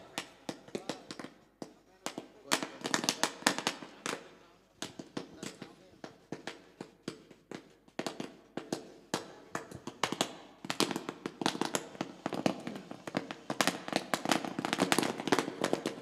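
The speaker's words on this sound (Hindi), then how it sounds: "पटाखों की आतिशबाजी से देखिए उनका शुभकामना यानी शुभेच्छा यहाँ पर देते हुए" Rapid, irregular bursts of firecrackers pop and crackle continuously at a local cricket trophy match in Maharashtra, loud and close with dense clusters of sharp bangs, while a commentator speaks over them.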